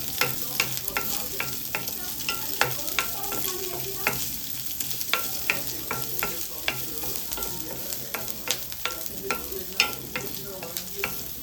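Chopped onion frying until brown in a pan for cabbage paratha, a steady sizzle broken by frequent sharp scrapes and taps of a spatula stirring, close up with no talk.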